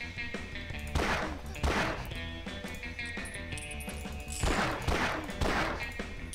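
Gunfire in a shooting video game: two clusters of sharp, booming shots with echoing tails ring out over constant game music, each cluster holding a couple of closely spaced blasts.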